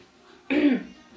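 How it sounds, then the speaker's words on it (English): A single short, harsh cough close to the listener, standing out against near silence. "I've sort of come out with this cough"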